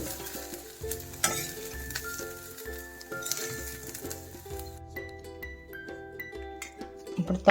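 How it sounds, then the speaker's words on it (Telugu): Green chilies, onions and ginger frying in a pan, a soft sizzle with intermittent stirring clinks and scrapes, while background music plays throughout. "పచ్చిమిర్చి ఉల్లిపాయలు అల్లం మొత్తం మూడు వేగిపోయాయి"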